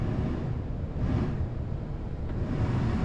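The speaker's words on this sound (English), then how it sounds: "I know the rear heater is working. I can hear it back there." A steady, low blowing rumble from the rear heater blower running inside a Dodge Caravan cabin, broadband and even with no voices.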